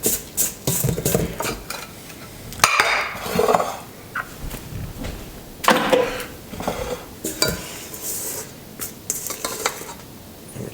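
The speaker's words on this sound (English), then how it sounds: "Just going to scrape this off the sides of the bowl." A spatula scrapes malted milk square batter off the sides of a mixing bowl, giving soft irregular scraping and knocking strokes that come close and moderately loud, with occasional clinks against the bowl.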